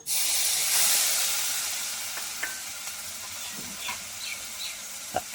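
Onion paste dropped into hot oil with turmeric, erupting in a loud, hissing sizzle that fades over a few seconds into a softer crackle with a few light utensil taps, close by and without speech.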